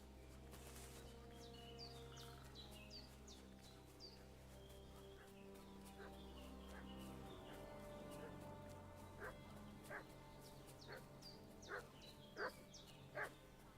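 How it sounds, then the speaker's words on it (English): A dog in Kingdom Come: Deliverance 2 barks repeatedly, sharp barks coming in a quickening series toward the end, set against a low ambient drone with birds calling now and then. "What's that dog making such a fuss about?"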